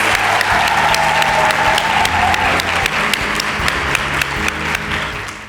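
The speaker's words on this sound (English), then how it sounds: "give yourselves a round of applause" Students, mostly girls, at a STEM bootcamp in South Africa give themselves a loud, sustained round of applause, dense clapping with a few whoops and voices mixed in.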